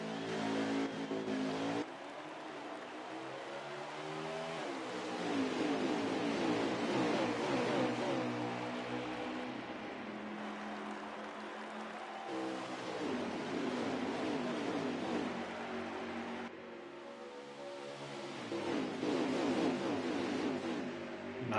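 NASCAR Cup Series race cars, including the number 14 Office Depot Mustang, roar at Homestead in a racing video game, a pack of engines surging and revving hard on a restart, loud and sustained with shifting pitch as cars jostle close by.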